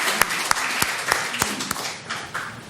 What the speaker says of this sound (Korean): 우리 박수로 하나님께 영광 올려드립니다.